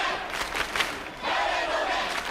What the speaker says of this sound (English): The cheer continued.